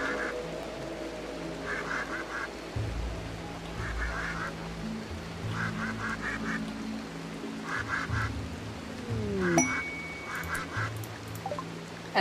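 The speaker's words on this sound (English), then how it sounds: "The ducks are going to attack them." Ducks and geese in the Rimworld video game quack and honk in repeated short bursts over steady game ambience and a low background hum, fairly loud and continuous.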